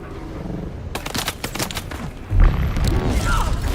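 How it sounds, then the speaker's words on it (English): A grenade goes off in the video game Dune Awakening as a deep, rumbling boom that follows a rapid crackle of gunfire-like bursts, loud and close, with a low roar that lingers afterward. "you can just throw that grenade"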